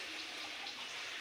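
Water runs steadily from a tap as hands are washed, a continuous bright splashing hiss with no talk over it.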